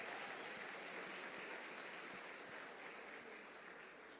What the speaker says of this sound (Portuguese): Uma salva de palmas pela vida do nosso sonoplasta.